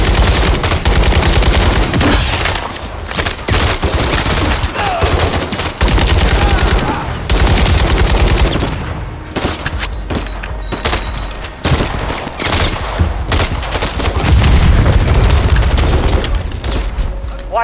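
Heavy video game gunfire in Call of Duty: Modern Warfare III roars almost nonstop, dense machine-gun bursts and booming shots layered loud and close, with brief lulls and occasional voices underneath.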